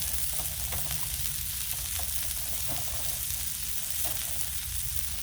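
Burgers being smashed on a Blackstone griddle, giving a dense, loud, steady sizzle with faint scraping taps from the smasher and no talking.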